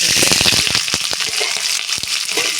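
Spices spluttering in about a spoon of hot oil in a small pan, a dense, steady sizzle with sharp crackling pops scattered throughout, close and loud, no voices.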